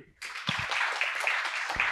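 Audience applause at a live Star Wars and science-fiction fan event, a dense burst of clapping that starts suddenly after a short quiet and continues steadily, fairly close.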